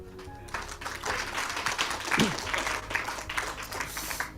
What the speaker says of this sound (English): More applause.